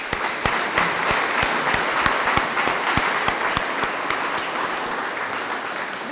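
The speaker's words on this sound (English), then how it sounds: "We owe these folks a big round of applause." An indoor audience at a county expansion ribbon cutting gives a sustained round of applause for Education Foundation members, with dense clapping and a few sharp individual claps standing out, steady for several seconds.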